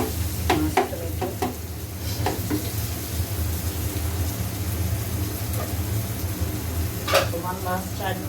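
Onions and tomatoes sizzle in a pan on the stove, a loud constant frying hiss with a few sharp scrapes of stirring near the start and end.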